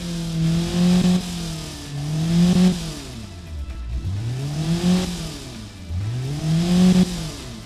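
A tuned small car engine making about 120 horsepower revs up and drops back repeatedly, rising and falling pitch in several loud close sweeps with no talk.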